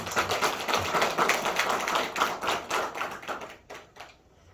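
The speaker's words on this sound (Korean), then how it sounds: "오늘 좋은 말씀 전해주시도록 우리 한번 감사의 박수 한번 드리겠습니다" A church congregation claps in thanks for a visiting pastor, a dense, steady round of applause that tapers off and fades to quiet over the last second.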